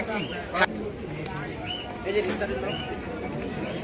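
Pigeons coo at a busy pigeon market in Jinjira, Bangladesh, their soft calls rising at intervals through a steady crowd murmur, with bargaining voices in the background.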